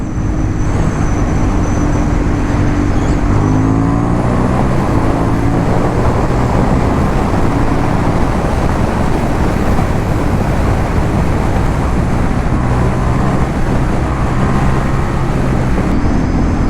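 A 2023 Honda CB750 Hornet riding on an open road, with a loud, steady engine drone and heavy wind rush filling the whole stretch, shifting slightly in pitch as the bike runs.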